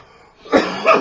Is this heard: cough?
yes